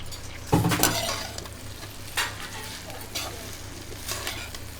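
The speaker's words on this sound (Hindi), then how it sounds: "सीधा तेल के अंदर आ गई भिंडी।" Okra drops straight into hot oil at a roadside dhaba kitchen, bursting into a loud sizzle that crackles on, with stirring scrapes of a utensil against the pan coming in short bursts.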